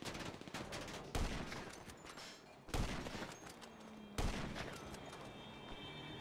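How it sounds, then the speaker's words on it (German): Bursts of rapid gunfire in GTA 5, several sharp volleys over a steady noisy background, fairly distant and without speech. "Schüsse von den Jungs. Jungs, schießen also."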